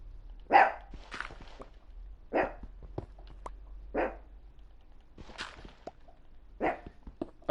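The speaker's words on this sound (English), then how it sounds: "It's just my dog." A pet dog barking indoors at people outside, several sharp barks and yips spaced irregularly, moderately close, with no talk over them.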